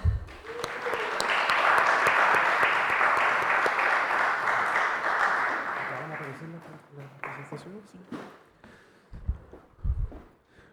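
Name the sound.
audience applause welcoming a keynote speaker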